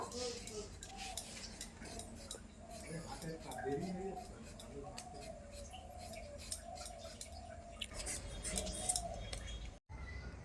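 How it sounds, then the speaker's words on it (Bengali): Potatoes are peeled by hand with a knife, giving faint, irregular scraping and light clicks close by, with a brief dropout near the end. "প্রথমে আলু ছিলে নেব"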